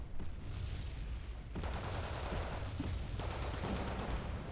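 Gunfire and explosions from the strategy video game Wargame Red Dragon, a dense continuous roar of rapid shots and booms with no clear gaps, loud and alone.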